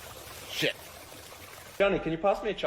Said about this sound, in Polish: O kurde, wylewa się z filterka.